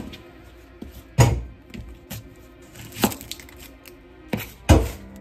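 A knife chops onion on a cutting board at home, with three firm, sharp thuds and a few lighter taps spaced unevenly, close up, with no talking.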